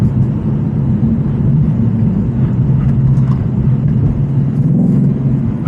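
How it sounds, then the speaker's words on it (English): A 2025 Ford Mustang Dark Horse with a 500 hp V8 downshifting while driving, a loud, deep, continuous engine rumble heard from inside the car, steady throughout with no talking. "See the gear down, it's just awesome sounding."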